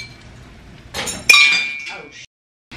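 A breakable glass object in a mobile home being renovated clinks sharply once, followed by a short scraping rattle and a brief quiet, close and fairly loud with faint talk beforehand.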